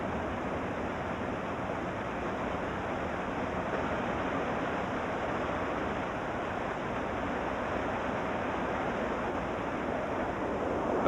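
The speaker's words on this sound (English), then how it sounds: "The beaver is stimulated to begin repairs by the sound of running water" Running water pouring through a break in a beaver dam in the Grand Teton wilderness, a steady broadband rush that holds even and continuous throughout with no other sounds.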